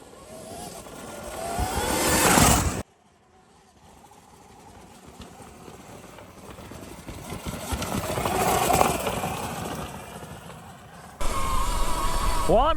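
Modified Sur-Ron Light Bee electric dirt bike ridden on high-altitude trails, its motor whining and rising in pitch with acceleration amid rattling chain and suspension clatter and wind, with sharp cuts between passages.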